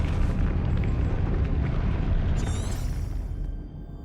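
A fire spell is cast in the Hogwarts Legacy game as a loud, roaring burst that rumbles steadily for about three seconds, then fades under a thin, bright magical shimmer toward the end.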